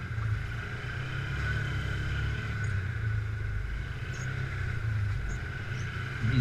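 An ATV engine idles and putters steadily at low speed while crawling through muddy ruts, a constant low drone with faint wind noise.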